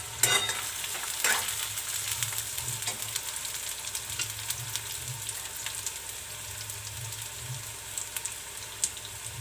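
Shredded cabbage and green chillies stir-fry for street-style veg Schezwan fried rice, with a steady close sizzle and scraping stir strokes throughout.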